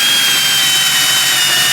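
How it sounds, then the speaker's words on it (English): Power drill boring holes in metal for a Chevy truck blow-through build, a loud, steady high-pitched whine with grinding texture running continuously, close by. "I'm gonna go ahead and drill some holes because we need to have a starting point."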